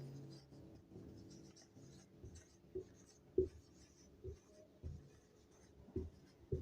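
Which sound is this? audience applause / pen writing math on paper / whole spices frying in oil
pen writing math on paper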